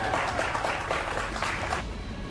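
An audience breaks into applause, a dense wash of clapping for about two seconds that then thins and tapers off.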